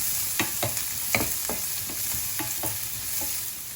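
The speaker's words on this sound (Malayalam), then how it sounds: "2 സെക്കൻഡ് ഇതിനൊന്ന് സോട്ട് ചെയ്തെടുക്കാം" Garlic and chopped onion sauté in a hot pan, a continuous sizzling hiss broken by repeated scraping strokes of a spoon or spatula at a fairly regular pace, close up and with no voices.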